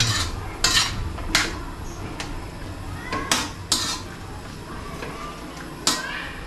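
A spoon stirs a pot with bay leaves, giving scattered metallic clinks and scrapes against the pot at uneven intervals over a low background hum.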